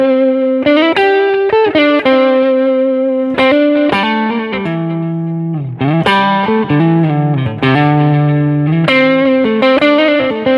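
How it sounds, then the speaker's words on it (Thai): Distorted electric guitar played through a 1990 Boss DD-3 Japan blue-label digital delay pedal; loud, sustained chords and riffs, each note trailing into repeating echo tails. "นี่ก็จะเป็นแบบดิจิตอลดีเลย์ที่แบบหางเสียงมันจะเหมือน"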